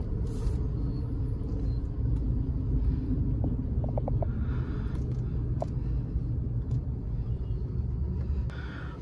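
Vehicles idle and rumble in a traffic jam on the NH6 highway in India, heard from inside a Tata Punch car as a low, steady engine drone with a few faint horn toots in the distance.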